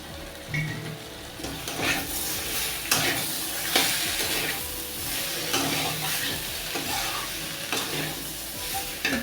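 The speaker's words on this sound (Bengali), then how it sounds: "একটু নেড়ে নিলাম।" Pointed gourd is stirred in a pan with poppy seed and ginger paste, with repeated scraping strokes over a loud, continuous sizzle and occasional light clinks of utensil on pan.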